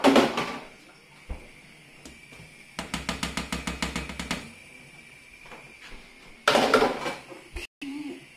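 Rinsed lentils tipped into a pot of boiling tomato soup, a burst of rattling, pattering pours and clinks against the pot, interrupted by brief kitchen knocks and quiet gaps.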